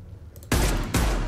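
Gunfire in Mass Effect 2: two heavy, booming shots about half a second apart, each a loud broadband blast with a lingering low rumble, no voices.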